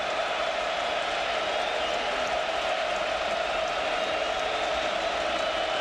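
Large stadium crowd at a Northern Illinois versus Michigan college football game, 2005, roaring and cheering in a steady, dense wash of noise that holds without a break.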